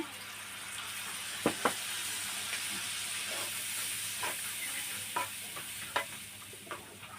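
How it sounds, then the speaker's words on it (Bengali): Spices sizzle loudly in a hot pan as they are stirred, a spoon clinking and scraping intermittently, a continuous hiss underneath; they are being cooked for a pangas fish curry. "এবার আমি পরিমাণ মতো জল দিয়ে দেব"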